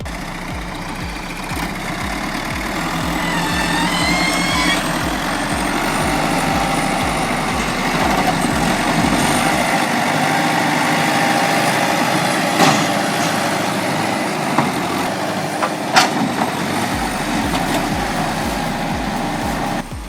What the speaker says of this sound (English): the F-175 skidder pulls it like it's nothing